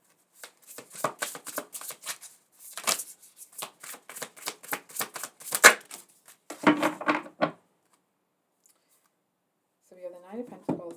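Tarot cards shuffled and drawn in a series of crisp, rapid riffling and flicking bursts, close and fairly loud, with short pauses in between and a brief softer rustle near the end.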